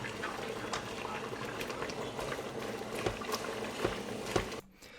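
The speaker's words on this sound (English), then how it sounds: "you want to let it simmer, stirring occasionally to make sure nothing burns at the bottom" Tteokbokki sauce with fish cakes simmers quietly in a pot, a soft bubbling with scattered pops and small clicks, faint and steady until it cuts off near the end.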